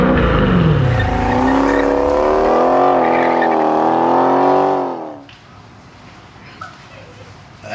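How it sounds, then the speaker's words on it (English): A Dodge Challenger Scat Pack wide body engine revs hard, its loud, close roar climbing in pitch and holding for several seconds before cutting off abruptly, leaving quiet background with a faint thump. "On your Dodge Challenger Scat Pack."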